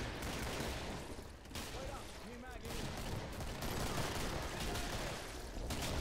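Gunfire in the video game Killing Floor, dense rapid shots running steadily under someone talking, the whole mix fairly quiet.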